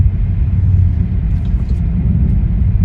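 Inside a Tesla car cruising at 40 mph, a low, steady road and tire rumble fills the cabin, constant and subdued, with no other sounds standing out.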